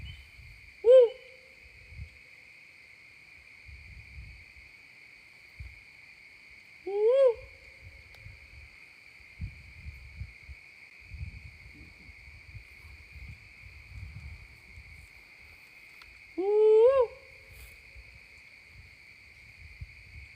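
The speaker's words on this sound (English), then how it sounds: "That was an owl. He got closer." An owl hoots three times at night in a cemetery, each call a short rising hoot spaced several seconds apart, heard clearly over a steady insect drone and faint rustling nearby.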